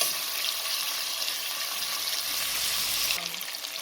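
Meat sears steadily in a pot, a continuous loud hiss and sizzle with faint crackling that holds evenly for a few seconds and shifts slightly near the end.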